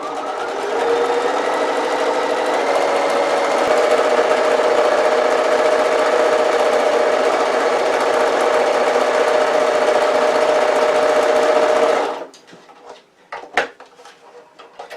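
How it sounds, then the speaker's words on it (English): Sewing machine running in one steady, continuous burst as it stitches both folded sides of a tote bag strap at stitch length 3, close and loud, then stopping abruptly, followed by a few faint handling clicks. "I've got my stitch length on 3 still, and I'm literally going to whiz up both sides"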